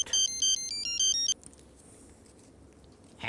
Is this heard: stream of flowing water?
no